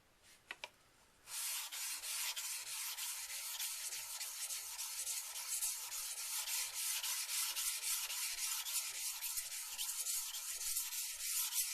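A kitchen knife is stroked over a wet 1K grit Nubatama whetstone, a steady close gritty rasping that repeats in quick back-and-forth strokes, continuing alone after a brief pause at the start.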